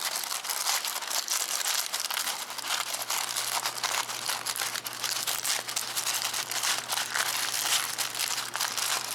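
Wax paper being crumpled and stuffed into an inflatable pool toy during a valve replacement, heard as a continuous dense crinkling and rustling, close and steady with no gaps.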